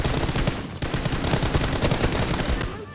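Rapid automatic gunfire in the video game PUBG Mobile rattles almost continuously, a loud, dense stream of shots with one brief break near the start, then fading slightly at the end.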